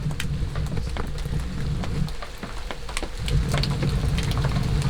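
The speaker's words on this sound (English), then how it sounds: "It's kind of slowed down on the rain a little bit." Steady rain falling outdoors on a farm, a dense even hiss with scattered drop taps and a low rumble underneath, continuous and moderately loud with no talk.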